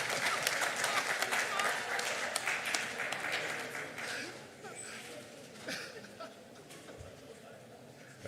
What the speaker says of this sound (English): So I think you should clap for yourself.